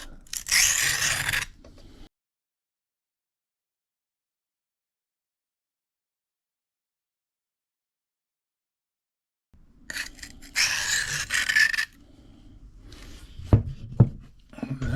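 A knife edge scrapes in alternating passes across an 800-grit diamond plate, heard in a short burst of gritty strokes, then a long silence, then further bursts of scraping with a few sharper clicks near the end.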